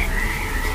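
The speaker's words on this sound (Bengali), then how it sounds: "ব্যাঙের শব্দ" Frogs croak as a night sound effect in a horror audio story, a dense continuous chorus with a steady high trill, close and fairly loud, with no voices.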